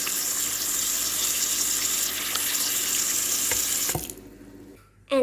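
Tap water runs steadily into a sink during handwashing, a loud close hiss that cuts off abruptly near the end and then briefly resumes.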